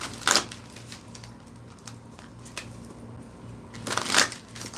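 Tarot cards are shuffled close by in short papery bursts, a riffle at the start and another near the end, with softer card rustling and handling in between.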